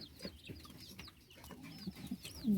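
Female racing pigeons peck and eat peanuts close by, with soft coos and clucking calls and light pecking taps over a quiet background.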